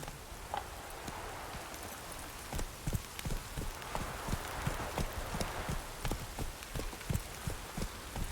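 Roach the horse clip-clops through The Witcher 3, the hooves knocking in a steady uneven rhythm over soft rain-like background noise, with no voices.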